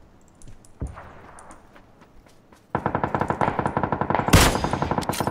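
A shooting video game fires rapid, loud bursts of automatic gunfire after a single earlier shot, with dense repeated cracks near the end.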